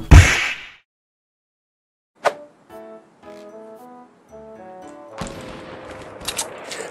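Gunfire in the Fortnite video game: a sharp burst at the start, a single crack a couple of seconds later, then a melodic game tune playing, with noisy bursts of shooting returning near the end.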